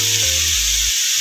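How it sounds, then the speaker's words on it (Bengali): Vegetables (pui sak greens with fish head) sizzle steadily in a hot pan with a bright hiss, over a low droning hum, for a brief moment with no talking. "এবার আমি সবজিটাকে আরেকবার নেড়ে ছেড়ে নেব।"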